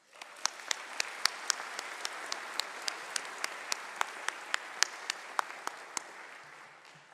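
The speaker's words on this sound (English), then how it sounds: "Please join me in applauding these special guests." An audience at a Binghamton University doctoral hooding commencement ceremony in 2024 applauds special guests, a steady wash of many hands clapping with a few sharp, louder claps standing out, lasting several seconds before tapering off.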